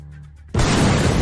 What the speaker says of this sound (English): suddenly, you guys hear the thundering sound of an explosion